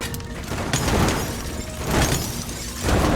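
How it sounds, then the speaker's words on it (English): Objects are destroyed by gunfire in the video game MouseHaunt, with a series of sharp shattering bursts and booming breaks coming in quick succession, loud and close, with no voices. "all the mice can destroy the objects as well by shooting them with their guns"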